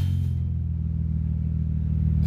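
Exhaust of a 2001 B5 Audi S4 at close range, a deep, steady idling rumble with a low rhythmic pulse lasting a couple of seconds, with no talking.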